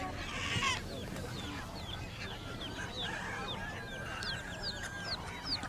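Chickens cluck and call continuously from many birds at once in a busy outdoor bird market, with ducks or geese mixed in, set against a low crowd murmur. A large white rooster with a red comb is among them.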